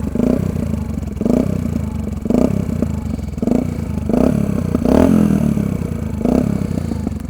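A Yamaha XT125X single-cylinder motorcycle is started and left idling, giving a steady low engine thrum with rhythmic pulses roughly every half second, close and moderately loud.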